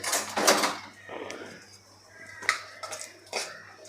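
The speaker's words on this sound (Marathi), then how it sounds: "बघा अशा पद्धतीने परतून घ्यायचं आहे" Metal utensils clink and scrape against a pan while fennel, asafoetida and bay leaves are sautéed, in a few scattered bursts with quiet gaps between.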